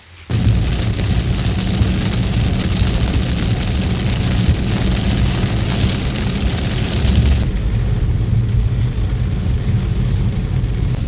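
Heavy rain pours steadily at a reservoir dam in Nakhon Ratchasima, Thailand, a dense continuous hiss of drops on surfaces that starts abruptly and fills the scene, easing slightly near the end.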